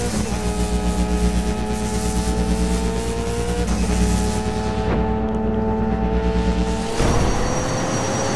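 A Hot Wheels Unleashed video game racing car engine drones at high revs, pitch rising and falling through gear shifts, then cutting sharply near the end.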